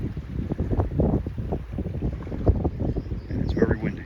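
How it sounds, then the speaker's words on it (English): Gusty wind buffets the microphone in low rumbling bursts on an anchored boat off the Florida Keys, with water lapping nearby and a voice briefly audible. "And it's very windy."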